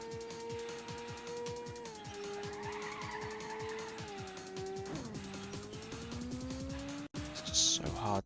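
Race car in the Ridge Racer video game drones loudly with a steady engine tone while its tires squeal through a long slide, pitch dipping at gear shifts, with a brief cut and a sharp burst near the end.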